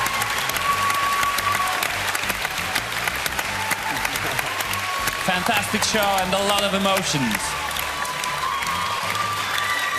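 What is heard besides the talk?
audience applause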